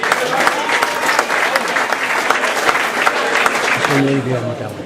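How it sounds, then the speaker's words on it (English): Audience applauding loudly and steadily for Stewart Drummond at an end-of-season awards speech, a dense wash of many hands clapping throughout, with voices and cheers mixed in toward the end. "Come on, a big round of applause for Stewart Drummond,"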